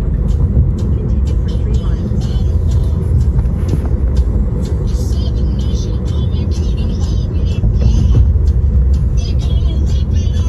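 Inside an Uber car riding to the airport: steady, close road rumble and low engine drone, with faint ticks and clicks from the cabin throughout.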